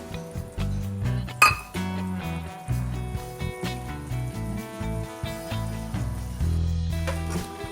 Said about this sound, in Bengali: ডিমটা একটু ফেটিয়ে নেব আমি।